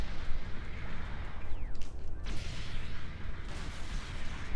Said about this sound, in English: Missile pod.